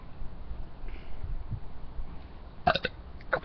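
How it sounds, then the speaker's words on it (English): A person burps during a burping contest, a short rough belch near the end followed by a second brief one, faint and close against a quiet room. "Shoot, I feel another burp."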